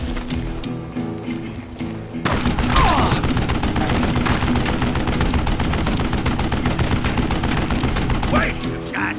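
Gunfire in Call of Juarez: Gunslinger, loud rapid shots that build into a dense, sustained barrage after a quieter opening, with shouting voices mixed in.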